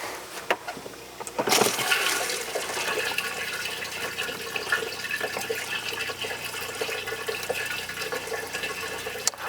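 A toilet in a 2024 Winnebago Travato 59KL camper van flushes antifreeze into the bowl during winterizing: a sudden rushing burst, then a steady hiss of flowing liquid nearby.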